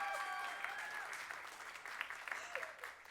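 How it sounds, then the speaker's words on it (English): A theatre audience at The Biltmore Theatre claps during the OMAs 2022 award show, a broad, steady wash of applause that thins toward the end into scattered claps, with a voice briefly speaking over it. "you could just keep clapping."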